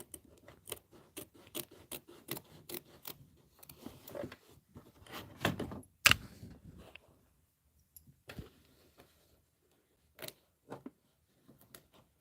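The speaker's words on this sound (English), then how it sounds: "So we're going to go ahead and just trim this now" Scissors trim quilt fabric close to a stitch line in a run of quick, crisp snips, some in rapid clusters and others spaced out, close and fairly quiet with pauses between.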